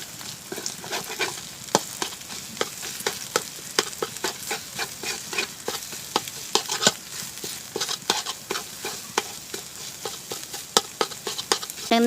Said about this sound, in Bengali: ডিমটা দিয়ে কিন্তু আমি অনবরত নেড়ে নিচ্ছি,